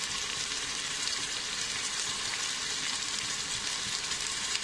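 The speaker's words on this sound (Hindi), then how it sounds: "अभी इसमें जो हमारा सूखा मसाला है वो सब डाल देंगे। और जो हमने पुदीना और धनिया मिर्ची सब कट करके रखा था वो ऐड कर देंगे।" Tomatoes frying in a cooker pot for egg potato biryani, with dry spices, chopped mint, coriander and chillies just added, produce a loud, steady, close hiss of sizzling that continues unbroken throughout.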